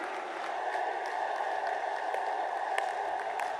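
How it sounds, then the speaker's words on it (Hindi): Steady applause from a large crowd at a political rally in Lucknow, Uttar Pradesh, a dense continuous wash of clapping heard from a distance with no break. "खड़े होकर अपने स्थानों से तालियों के गड़गड़ाहट से जबरदस्त स्वागत करें मित्रों"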